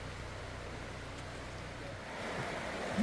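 A creek rushes along a trail near Harrison's on the Appalachian Trail, a steady broadband wash of flowing water with a faint rise toward the end and no talking.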